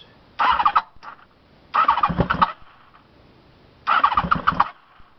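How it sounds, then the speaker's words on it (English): A rebuilt Honda VFR750 motorcycle engine cranks on a cold start in three separate bursts, each about a second long, sputtering and backfiring close by with quiet pauses between attempts. "Ooh, it's backfiring."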